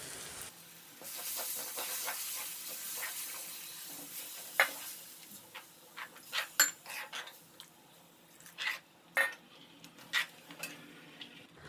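Gram flour batter stirred into sautéed onions in a pan, with a soft sizzle under irregular scraping and clinks of a spoon against the pan, several sharper knocks toward the end, no speech.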